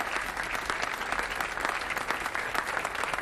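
An audience at a ceremony commemorating the abolition of slavery claps with dense, sustained applause that stays even and full for its whole length, with no voices standing out.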